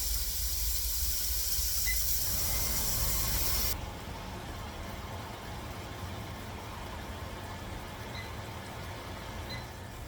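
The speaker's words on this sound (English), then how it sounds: "turn on the fan now" A kitchen exhaust fan hums and hisses steadily while pork chops cook in a pan, loudest for the first few seconds and then a quieter, even rush, with no talk.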